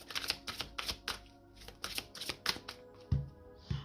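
Tarot cards being shuffled, a quiet, rhythmic series of crisp riffling slaps and flutters, close and alone with no talk.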